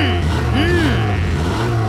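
A cartoon bus's super strong engine revs loudly and continuously, with rising and falling tonal sweeps over a steady low rumble.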